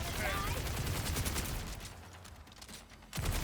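Rapid automatic fire from the Bod sprayer gun in Borderlands 4, a fast crackling stream of shots that thins and drops away briefly before resuming loud, with a voice speaking over it.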